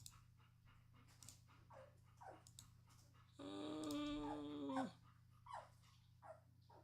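A litter of puppies whimpers and pants close by, with short soft whines and breathy panting, and one longer, louder drawn-out cry in the middle over a steady low hum.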